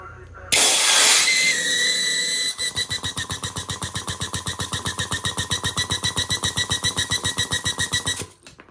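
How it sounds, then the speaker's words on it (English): A 1940s Homelight two-stroke generator motor has dirt and crud blown out of it with air: a loud hiss starts abruptly, then gives way to a steady rapid pulsing as the engine is spun, running close and alone until it stops. "I'm just blowing trash out, just trying to get all the dirt and crud out of this motor"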